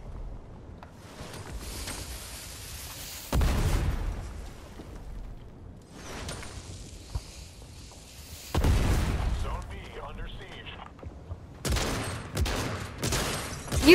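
Grenade blasts in the video game Fortnite come as several loud booming bursts separated by quieter stretches of game sound.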